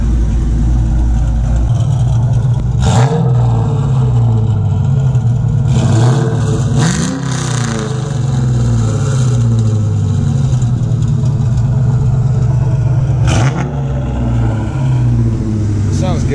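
A 2001 Mustang Bullitt with stage 2 cams idles with a loping, choppy rumble, broken by several sharp throttle blips that rise and drop quickly, loud and close, with people talking briefly over it.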